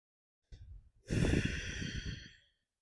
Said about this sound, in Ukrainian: Спокійно, глибоко.